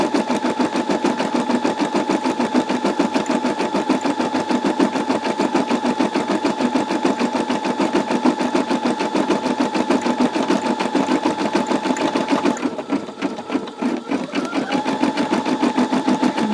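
Brother SE625 embroidery machine stitching a small tail section of a design, a loud, fast, steady mechanical chatter of the needle running close and continuous, briefly faltering near the end.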